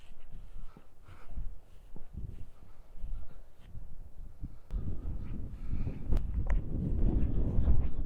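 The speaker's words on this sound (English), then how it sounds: "as the wind batters me to death" Strong outdoor wind buffets the microphone at a WW2 starfish decoy bunker in Essex, giving a steady low rumbling roar that grows heavier and louder toward the end.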